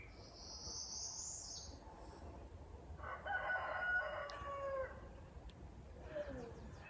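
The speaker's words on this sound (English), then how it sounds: "I'm gonna just be quiet and let you listen to the birds for a minute." Birds call in the woods of Maine: a high whistled note, then a louder run of chirps and trills in the middle, over a low, steady outdoor background, moderately distant and faint.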